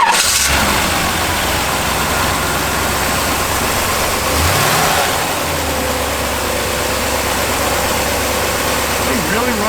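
A 1936 Plymouth Humpback Sedan engine cranks, catches and settles into a steady mid-pitched idle, loud and close, with a brief rev partway through and people talking over it.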